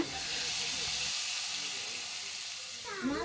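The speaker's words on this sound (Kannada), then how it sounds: "ಒಗ್ಗರಣೆ ರೆಡಿ ಆಯಿತು ಇದನ್ನ ನಾನೀಗ ಸಾಂಬಾರಿಗೆ ಹಾಕ್ತಾ ಇದ್ದೀನಿ" Hot tempering poured into drumstick sambar gives a loud, steady hissing sizzle that fills the whole stretch, with a brief splutter near the end.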